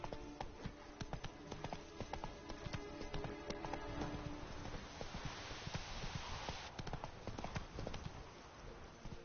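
Hooves of the horse Roach galloping in The Witcher 3, a fast, rhythmic clip-clop that carries on steadily with the game's ambient sound underneath.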